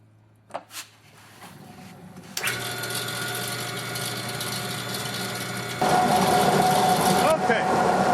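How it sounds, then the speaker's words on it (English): Art glass grinding wheel with a smoother disc fitted, smoothing a coarse-ground glass edge: a motor hum, then a steady grinding whir that grows louder and harsher partway through before easing off. "now we're going to start smoothing this coarse grind that we did"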